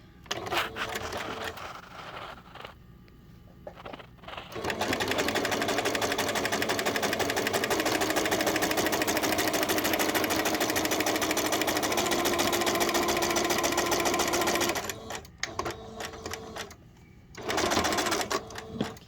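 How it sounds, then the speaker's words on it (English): A sewing machine stitches a small shirt for a show bear, running in long steady bursts with brief stops between, loud and close. "I'm going to start sewing."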